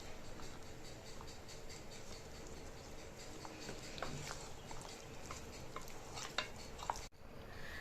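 Chicken lollipop marinade with egg and spices is stirred by hand in a bowl, with soft, faint scraping and sloshing, a few light clinks of utensil on the dish, and no voices.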